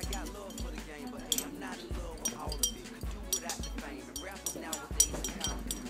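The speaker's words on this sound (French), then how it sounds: "Nous mélangeons ensuite pour que les pastilles de soude se dissoudent." Sodium hydroxide pellets being stirred in glassware, with repeated light glassy clinks and taps in an irregular rhythm, close and moderately loud, under a steady background.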